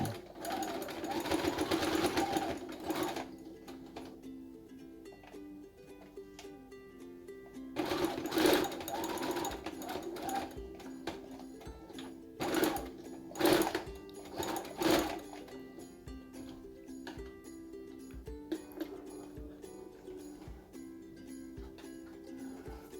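A sewing machine stitches fabric for a reversible face mask, rapid mechanical chattering in several runs that start and stop, close by, with faint voice in the background.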